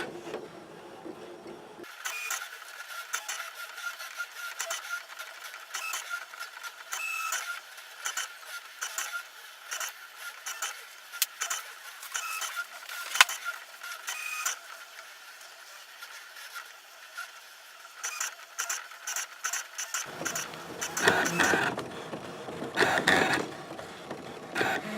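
A Brother ScanNCut SDX1200 cutting machine works through a sheet of flex vinyl while personalising a t-shirt, giving a fairly quiet, continuous mechanical whirr and ticking with rhythmic motor pulses, and a lower hum starting near the end.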